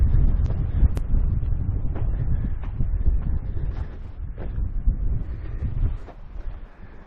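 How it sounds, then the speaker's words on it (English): Strong wind buffets the microphone in a steady low roar with gusty swells, plus occasional faint clicks and knocks in the background. "Pretty windy today."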